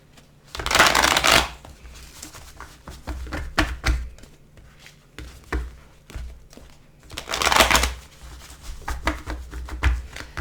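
A deck of tarot cards is shuffled close by. Two long riffling bursts are broken up by scattered taps, thumps and card handling, with no voices.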